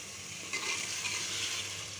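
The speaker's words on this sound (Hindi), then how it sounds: "अब ये भुनाई कर रहे हैं हम कीमे की।" Minced meat (keema) frying in a pan, a steady close sizzle with soft bubbling crackle throughout and no talking.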